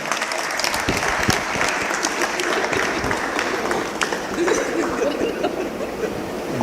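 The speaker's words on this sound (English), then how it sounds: "Clap for them." Steady crowd applause fills a political party awards ceremony as award winners are honoured, with continuous clapping of even loudness throughout.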